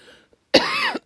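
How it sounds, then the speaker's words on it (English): A single harsh cough from a person recovering from illness with fluid in the lungs, loud and close, following a brief quiet pause after faint voice. "speaking of coughing, I just had to, just because I said so."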